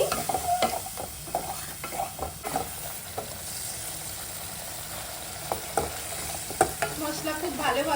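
Spices and whisked yogurt being stirred and sautéed in oil for a Bengali-style bhetki fish curry, a continuous low sizzle broken by irregular scraping stirs of the spoon against the pan, close and steady throughout.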